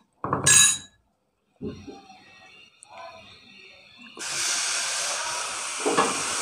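Water poured into a hot pan of fried Lacha Patisa ingredients to start sugar syrup, a sharp burst of hissing steam followed by clinks and then a sustained loud sizzle.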